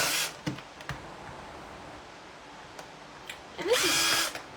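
Power drill boring into a metal-stripped glider swing, a few brief clicks and short bursts early, then a loud sustained whine of the motor near the end, close to the listener.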